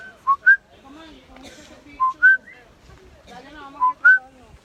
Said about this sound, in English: that coqui has a mating song that sounds exactly like its name